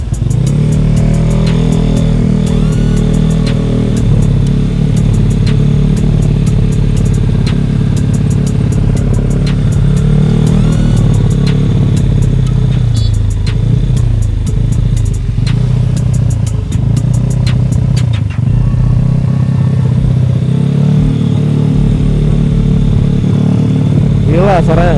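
A motorcycle exhaust revs loudly and steadily at night, held back from full throttle, with a deep throbbing engine note running for the whole stretch and voices talking over it.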